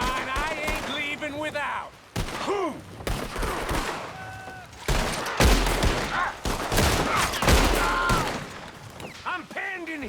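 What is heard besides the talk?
gunfire in Red Dead video game shootout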